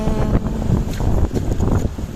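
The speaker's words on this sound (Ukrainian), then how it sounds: "на морі так вітряно." Strong gusting wind at the sea roars and buffets the microphone, with a broad rushing noise that stays loud and steady throughout.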